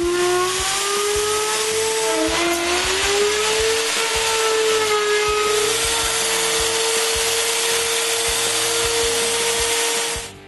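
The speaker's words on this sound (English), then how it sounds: "For that, I use my Panther router" A Panther router cuts tenons into 1.25-inch-square wooden stock, giving a loud, steady high-pitched whine that shifts slightly in pitch as the bit works through the wood, continuous for about ten seconds before cutting off.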